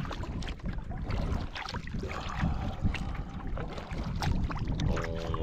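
Canoe paddling on a remote wilderness lake, the water swishing and gurgling steadily around the hull, with faint wind and ambient noise, no talking.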